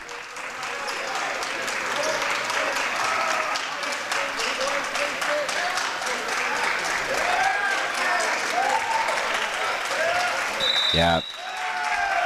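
Spectators clap steadily and loudly throughout a high school volleyball match between Loyola and Redondo Union, with crowd noise and a brief spoken word over the applause, plus a short sharp whistle near the end.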